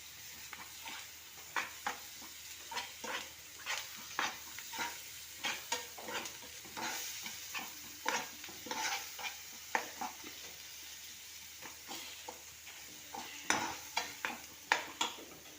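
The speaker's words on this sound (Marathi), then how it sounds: "आता आपण ह्याच्यामध्ये हे मसाला चांगला फ्राय करून घेऊया।" Ground masala paste frying in a pan while being stirred, rhythmic spoon scrapes and clinks about every second over a faint sizzle, close but quiet, with no voices.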